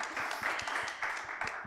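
A small audience at a German panel discussion on disinformation gives brief applause, a short burst of scattered clapping at moderate volume, with no talk over it.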